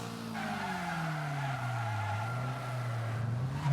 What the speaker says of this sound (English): these tyres do not sound happy though